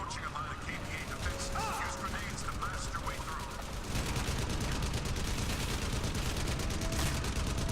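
Gunfire from a machine gun nest in the video game Crysis, played on PS3: dense, continuous rattling bursts that grow heavier partway through, with crashing impacts mixed in.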